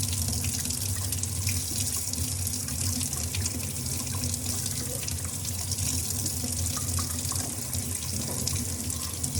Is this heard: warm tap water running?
yes